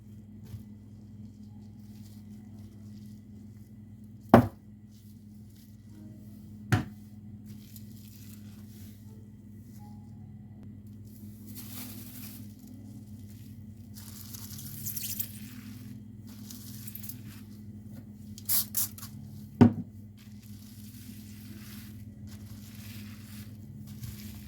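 Hands press soapy wool fiber under a mesh during wet felting, making soft, faint wet squishes with a few sparse, sharper pats over a quiet low hum.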